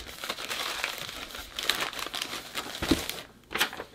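A paper envelope from fan mail being opened, with close crinkling, rustling and tearing paper sounds in irregular bursts and no talking.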